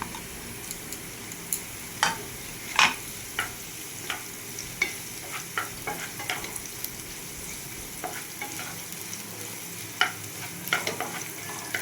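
Chopped onion and green chillies frying with carrots and beans, a faint continuous sizzle under scattered light clicks and taps of a spatula, close but quiet, no talking.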